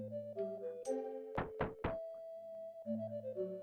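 Three sharp, evenly spaced knocks on a locked door in a video game land over a sustained synth music bed, close and loud against the soft score.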